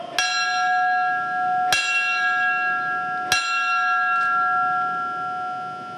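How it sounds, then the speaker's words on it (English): A memorial bell struck three times at an evenly spaced interval, each ring clear and resonant with a long ringing decay, heard alone against quiet background. "the special signal of 3 rings, 3 times each of the bell"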